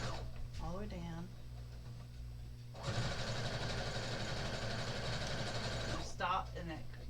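A sewing machine runs steadily for a few seconds, stitching across fabric on a two-toned tote bag, loud and close, with someone speaking before and after the stitching.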